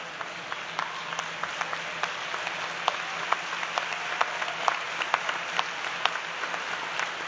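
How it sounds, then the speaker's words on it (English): Convention audience of educators and union members applauding together, a steady dense wash of clapping with sharper individual claps popping out, held at an even level throughout without any talk. "I want you to stand up and give yourselves a hand"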